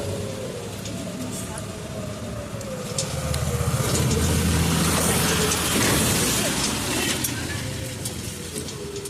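Steady rain falls outside a temple housing a large Kali idol, a dense hiss of drops on surfaces with passing traffic beneath and a person talking over it.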